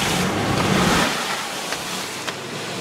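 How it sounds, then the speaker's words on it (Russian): Rainwater streams rushing through flooded streets during a heavy summer downpour in Tomsk, a loud, dense, continuous roar of flowing water with faint wind, close by and steady throughout. "вот они ручьи. Всякие бегут."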